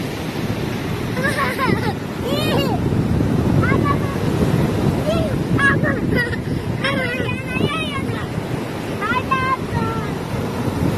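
Sea waves roll onto a beach under gusty wind buffeting the microphone, with a steady surf roar, while a voice and other people talk nearby throughout.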